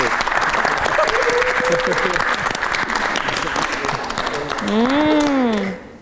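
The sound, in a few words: audience applause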